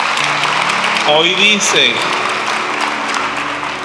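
A church congregation at Mass claps together in praise of God's mercy, a dense burst of applause that carries on under a priest's voice speaking over it.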